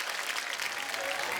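A studio audience on a television comedy show claps to welcome actress Neha Dhupia, a short burst of dense applause at a moderate, even level.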